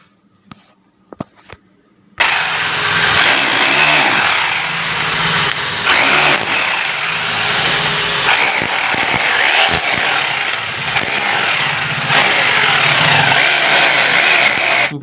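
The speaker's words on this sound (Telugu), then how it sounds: "ఇప్పుడు ఈ డ్రిల్ మిషన్తో పని ఏ విధంగా చేయాలనేది చూద్దాం." A drill machine chips into a wall for house wiring. After a few quiet taps, a loud, continuous grinding roar takes over, with brief dips as the bit bites into the masonry.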